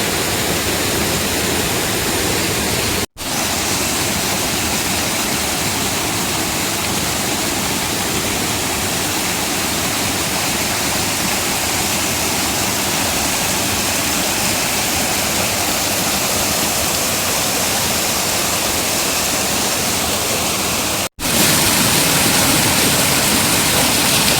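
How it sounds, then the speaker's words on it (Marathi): Rain-swollen water pours over a small weir at Gondavale like a waterfall, a loud, close, unbroken roar that fills the whole stretch, cut only by two brief dropouts. "धबधब्याचं रूप आलेलं आहे या बंधाऱ्याला आणि हे पाणी वाहत आहे"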